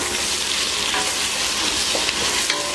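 Chopped tomatoes sizzle and fry in a pan of masala for mutton biryani while being stirred, a steady close crackling hiss with soft scraping throughout, no talking.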